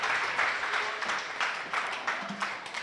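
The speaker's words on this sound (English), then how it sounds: "Your applause to Pythia." A startup competition audience claps briefly, the applause sounding fairly faint and distant in a hall, with a few louder claps standing out over a steady patter.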